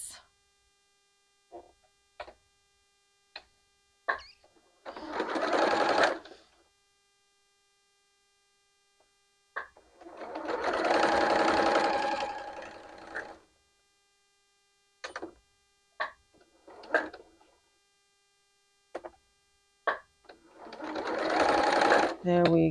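Sewing machine stitching quilt pieces in several separate runs, each a steady mechanical whir lasting a few seconds, with short bursts between; a person talks between the stitching runs.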